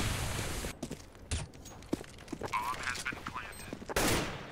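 Gunfire from the video game CS:GO rattles in sharp bursts and single loud shots, close and abrupt, with brief gaps and a closing burst, while voices talk over the action.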